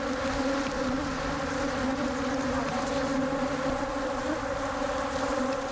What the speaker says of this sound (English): The bees show no sign of stopping.